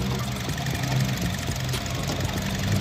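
A 2020 Honda City's 4-cylinder, 16-valve engine idles under an open hood, a smooth and steady low hum with faint rhythmic ticking, heard alone without talk.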